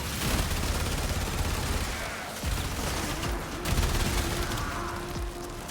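Sustained, dense gunfire from the video game Warframe, steady loud bursts rolling continuously through the whole stretch with little pause.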